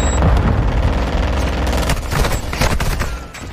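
Heavy gunfire in the Call of Duty DMZ video game, with loud, sustained bursts of rapid shots and booms throughout, dense and close with no talk.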